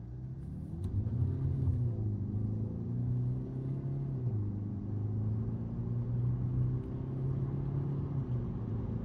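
A Ford Focus 1.5 diesel Titanium with an 8-speed automatic, in sport mode for a 0-100 run, drones steadily from inside the cabin, with a brief dip in engine pitch partway through like a gear change.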